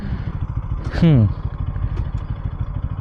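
A modified motorcycle engine idles steadily and close by. A person talks over it, and a brief whining rev sweeps downward partway through.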